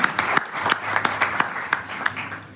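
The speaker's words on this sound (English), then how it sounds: "give her a round of applause for offering this" Audience clapping at a business panel, with distinct rhythmic claps cutting through a lighter spread of applause, fairly close and lively over a short stretch.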